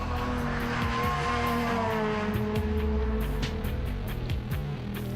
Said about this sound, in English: It's local driver Belgian Xavier Baunet who triumphs in the two-wheel drive category in his 208 Peugeot R2